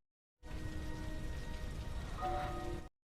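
Steady rain pours in a horror film scene from Evil Dead (2013), where a rain of blood falls; a dense, even hiss fills the whole stretch with a faint tonal score beneath, and no one speaks.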